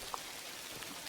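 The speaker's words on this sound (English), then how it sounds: "as you can tell, it's raining." Rain falls steadily on a hiking trail in the Pemigewasset Wilderness, a dense hiss of drops with a few distinct nearby taps, alone and fairly soft.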